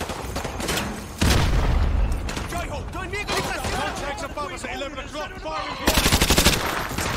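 Heavy gunfire in the shooter game MW2 Remastered: loud bursts of automatic fire and booming shots that surge in and out, dense and continuous, with a sharp louder volley near the end.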